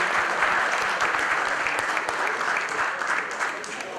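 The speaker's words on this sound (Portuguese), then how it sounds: "Uma salva de palmas, por gentileza." Crowd at a Brazilian football expo round-table applauding a former footballer and coach walking onto the stage, a thick continuous round of clapping, loud and even, tapering slightly near the end.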